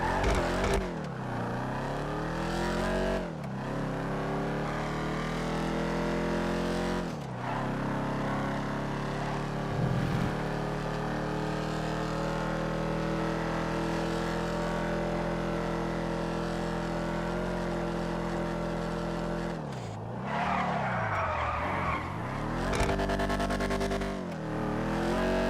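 Dominator GTX sports car in a racing video game, its engine droning and revving steadily with sharp shifts and a skid-like burst near the end, loud and continuous with no talk.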